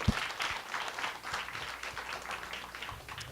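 A church congregation applauds during a 2014 ordination service at Banseok Glory Church, many hands clapping in a full, sustained patter at moderate level, with a brief thump at the start.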